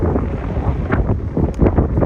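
Strong gusts buffet the microphone near Lake Erie, producing loud, uneven rumbling bursts that swell and fade.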